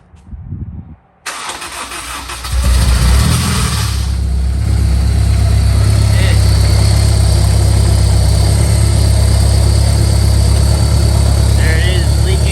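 A Honda S2000 (AP2) fitted with a Kraftwerks supercharger cranks and fires for its first startup, settling into a loud, steady, close idle with a constant low rumble.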